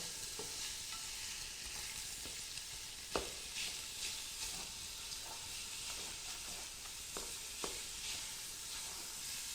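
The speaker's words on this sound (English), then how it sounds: "going to let this cook for about 3 to 5 minutes because we're wanting the sausage to have a nice color" Sausage cooking in a hot pan: steady, bright sizzling and hiss fills the whole stretch, with occasional sharp pops and crackles of spitting fat rising above it.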